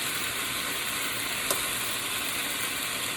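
Chicken and cauliflower stir fry in a pan sizzles as a dense, constant hiss throughout, with one brief tap in the middle and no voices.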